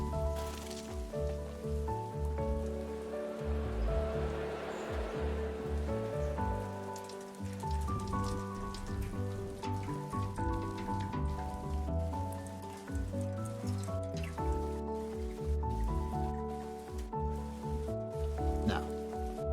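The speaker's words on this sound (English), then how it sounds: "Pretty heavy rain." Heavy rain falls in the video game Loftia, a steady dense patter running continuously under layered game music with no talk.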